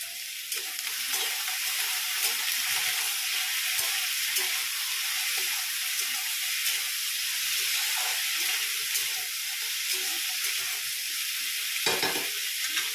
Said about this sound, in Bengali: এই যে পেঁয়াজ কলি আর আলু প্রায় ভাজা হয়ে গেছে